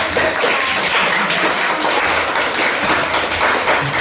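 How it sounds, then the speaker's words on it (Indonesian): Steady, dense clapping from a crowd fills the whole stretch, broadband and even in loudness with no pauses. "Kita berikan tepuk tangan yang meriah."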